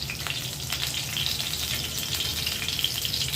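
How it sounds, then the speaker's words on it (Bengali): Potato pieces with a little salt fry in a pan with a steady, dense sizzle that holds even and close throughout, with no talking. "আলুটা একটু লাল লাল করে ভেজে নেব।"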